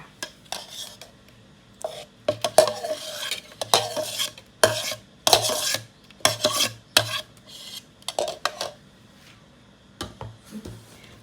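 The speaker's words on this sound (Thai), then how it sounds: "คนส่วนผสมค่ะให้พอเข้ากันก่อนนะคะ" Banana chiffon cake batter being stirred in a bowl, a utensil scraping and clinking against the sides in repeated uneven strokes, fairly close and clear with no talking.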